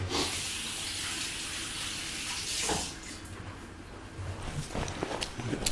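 Running tap water gushes steadily while hands are washed under it in a home kitchen during meat cooking, loud and close for most of the stretch, then easing into softer splashing with a few handling knocks near the end.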